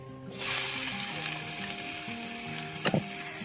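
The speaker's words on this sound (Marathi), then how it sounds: "कांदा मस्त परतून घेऊ लाल होईपर्यंत" Finely chopped onion hits hot oil and sizzles loudly, settling into a steady frying hiss with one brief stirring scrape near the end.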